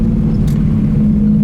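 A BMW E30 fitted with an S52 engine idles or cruises with a steady, loud low rumble, close and unbroken, no voices over it.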